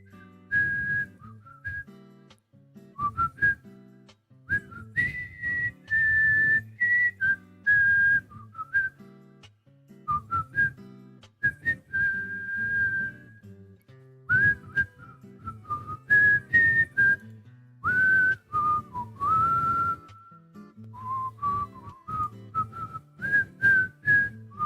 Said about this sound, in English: a lot of it is me blowing into the mic. Because it's whistling, right?